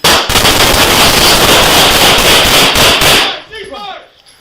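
Rapid, loud gunfire erupts during a police shootout at a hospital in Columbus, Ohio, a dense volley of shots lasting about three seconds before cutting off, followed by faint ringing and shouting voices.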